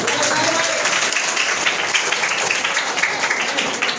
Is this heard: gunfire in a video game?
no